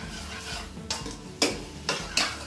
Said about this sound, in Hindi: इसको हम लोग सिंपली मिक्स करेंगे